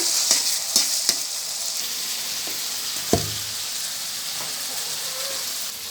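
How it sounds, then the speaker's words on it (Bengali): Spice masala fries in a pan with a bright, steady sizzle. Several sharp knocks of a spoon against the pan come early, and one heavier clank follows midway. There is no talking. "মশলাটা খুব ভালোভাবে কষিয়ে"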